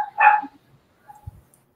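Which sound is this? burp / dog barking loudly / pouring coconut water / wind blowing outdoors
dog barking loudly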